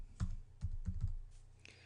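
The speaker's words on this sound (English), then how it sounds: "so we just type alligator." A search word typed on a computer keyboard, a few quiet close key presses in an uneven rhythm over a soft background hum.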